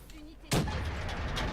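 A single sharp shot from the AN rifle in the shooter game Black Ops 3, one loud burst followed by a short ringing tail over quieter game ambience.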